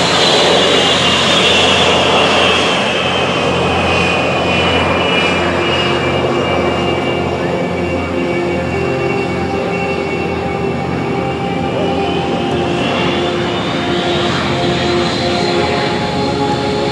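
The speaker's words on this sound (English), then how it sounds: "Pounds of thrust coming out the back end of that 1940 Ford fire truck." The jet engine on the Aftershock, a 1940 Ford fire truck fitted with jet power, roars at an air base with a loud, sustained turbine howl and a slowly shifting whine, continuous and close.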